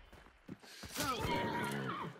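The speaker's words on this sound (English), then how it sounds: "I have no idea why this horse is going on." A horse in the video game Hunt: Showdown neighs loudly and fairly close, a long shaky whinny that follows a couple of short thuds, with no talk over it.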